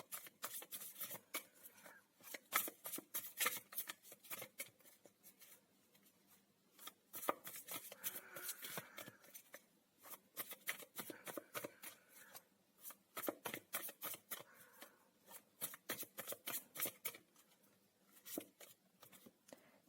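A deck of tarot cards shuffled by hand in repeated quick riffling bursts, crisp papery flicks and slaps close up, with brief pauses between rounds and no talking.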